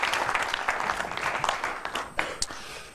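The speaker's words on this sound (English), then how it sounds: "You all deserve a round of applause." An audience at an indoor gathering applauds in a dense, steady wash of clapping for about three seconds, fairly faint and tapering slightly toward the end.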